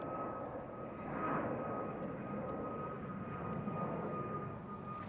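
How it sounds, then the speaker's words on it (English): A fixed-wing airplane flies overhead near an airport, its steady engine roar holding loud and continuous with a slight swell as it seems to speed up, heard outdoors with no talk. "That one sounds like it's speeding up."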